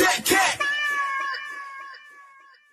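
A cat gives one drawn-out, high meow, sliding and wavering before it fades, loud and close, with a burst of human voice right at the start.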